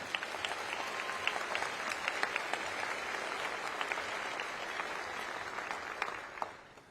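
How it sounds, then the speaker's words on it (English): Audience applause at a Hawaii governor's inauguration ceremony, a sustained, even roar of many people clapping in a large crowd, heard from a distance and fading away at the end. "Let's give a round of applause for Brooke."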